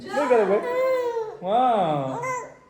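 A little girl cries close by in two long wailing bursts, with a wavering, sobbing pitch and a short pause between them, loud and with no other voices.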